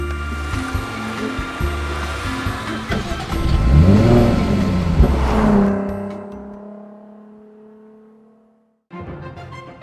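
A 2013 sports car, either a Jaguar F-Type or a Porsche Cayman, revs loudly nearby and pulls away, its engine note climbing and then fading into the distance before a brief burst of other noise.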